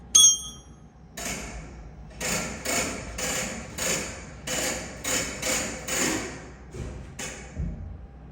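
An air hammer with a chisel bit works on a nut of a 1950s GM 4104 bus, rattling in repeated bursts of roughly half-second hammering separated by brief pauses, close and metallic, with no talk.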